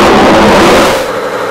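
Large engine-driven machinery deep inside Fort du Scex, a Swiss military fortress, roaring to life in one loud, broad burst that eases and thins out over about a second and a half.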